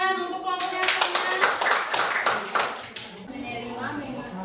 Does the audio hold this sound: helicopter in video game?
no